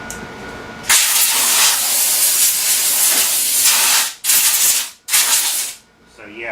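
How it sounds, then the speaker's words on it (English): Compressed air bursts loudly from a nozzle to clear grinding debris off a compound sine plate in a machine shop, a harsh close hiss lasting several seconds, broken by two brief pauses before short final blasts. "Get some air and blow this stuff off here."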